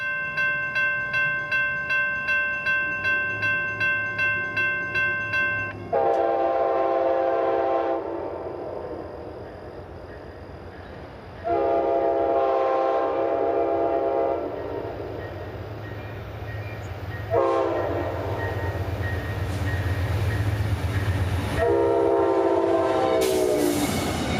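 A long freight train rolls past at Folkston, Georgia, bound for Jacksonville, its horn sounding in repeated loud blasts over steady rumbling wheels and rail clatter, close and continuous throughout.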